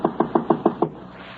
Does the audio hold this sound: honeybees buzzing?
no